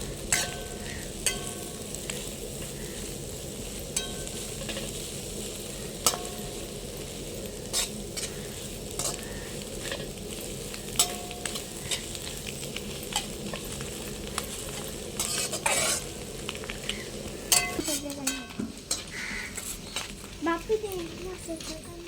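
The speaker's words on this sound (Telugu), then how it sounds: "వెజిటేబుల్స్ని ఇలా ఫ్రై చేసుకున్నాక" Vegetables for chicken fried rice stir-fry over high flame, a steady sizzle with repeated scraping taps of the spatula throughout and busier clatter toward the end.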